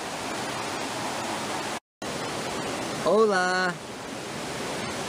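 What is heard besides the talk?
river flowing nearby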